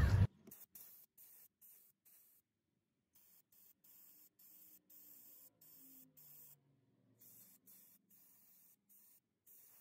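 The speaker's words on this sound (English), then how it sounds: "last thing to do is clean the throttle body. All right, let's go ahead and do that. Just gonna spray it." A can of cleaner sprays in a series of short, close hissing bursts into the throttle body of a Toyota Camry. A brief loud thump opens the sequence, and each burst is separated by a small pause.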